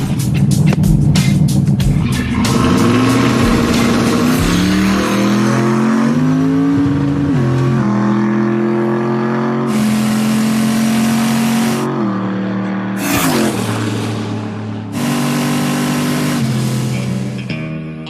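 A turbocharged drag car holds a two-step launch and then breaks into a burnout. The loud, close engine revs and climbs steadily, with harsh bursts of noise and popping over it, and no talk is heard.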